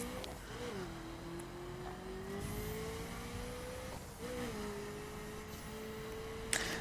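Mazda RX-7 in perf spec racing in a driving video game, a steady high engine whine holding and shifting pitch with occasional tire squeal over faint background.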